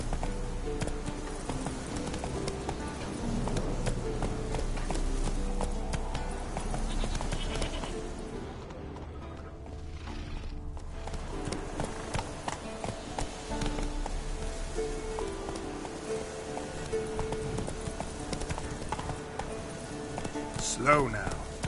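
Hooves of the horse Roach galloping in The Witcher 3, a steady clip-clop running through a busy game soundscape with music, while voices speak over it.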